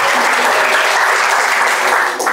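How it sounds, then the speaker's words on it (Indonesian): A church congregation at a Sunday service breaks into loud, sustained applause, a thick, even wash of many hands clapping close by from start to finish. "Berikan tepuk tangan untuk Tuhan"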